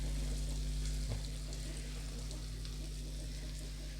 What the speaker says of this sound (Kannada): ಶಾಲೋ ಫ್ರೈ ಮಾಡಬೇಕು